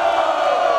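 A crowd at a freestyle rap battle in Barueri, São Paulo, roars and cheers in one loud, steady wall of whoops and yells that fills the whole brief moment.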